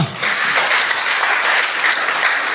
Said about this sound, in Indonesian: tepuk tangan untuk mereka berdua